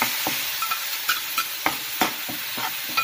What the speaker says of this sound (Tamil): இது நல்லா பச்சை வாசனை போற அளவுக்கு நல்லா வதங்கட்டும்.